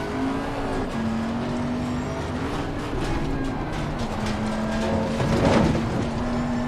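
A BMW race car engine in Assetto Corsa Competizione drones steadily at high revs, pitch dipping and rising with gear changes, loud and continuous with a brief scrape near the end.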